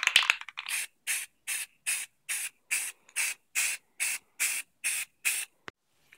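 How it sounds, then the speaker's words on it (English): A spray can hisses in a rapid run of about a dozen short, even bursts as matte black paint goes onto an EVA foam Deathstroke-style katana cosplay sword, each burst close and crisp with brief silences between. "after doing the matte black spray paint"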